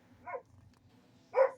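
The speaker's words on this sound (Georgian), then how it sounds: "გაჩუმდი ძაღლო" A dog gives two separate barks about a second apart, fairly close and moderately loud, with a faint low hum underneath and no talking.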